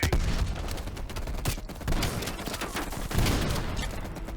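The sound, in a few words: machine gun fire in Call of Duty Black Ops Cold War video game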